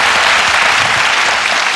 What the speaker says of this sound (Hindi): देखो इस पे ना थोड़ी तालियां जरूर बजती है।